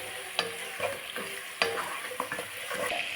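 Onion is sautéed in a pan with salt, giving a quiet, steady sizzle. A spoon stirs it, making several sharp scrapes and clinks at irregular intervals.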